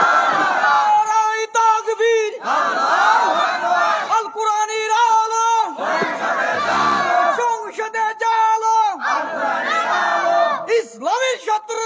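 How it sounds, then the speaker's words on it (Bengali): Large crowd at an Islamic sermon shouting takbir in loud unison, several surging chanted bursts separated by brief pauses. "তাকবীর দেন তো দেখি।"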